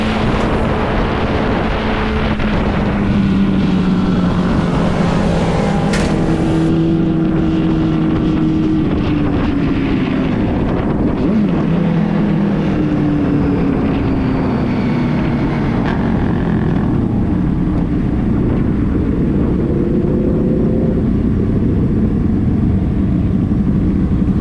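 An on-board motorcycle engine at a race track drones steadily as riders roll onto the front straightaway toward the grid, its pitch rising and falling gently beneath constant wind rush, with no speech.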